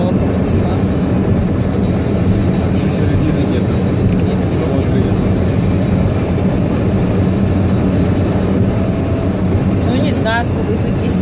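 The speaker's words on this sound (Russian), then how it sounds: "Это вот стандартный канадский поезд. Они все такие длиннющие." A long Canadian train passing close by: a loud, steady roar of rolling cars and wheels continues unbroken throughout.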